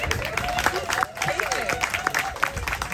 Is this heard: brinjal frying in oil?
no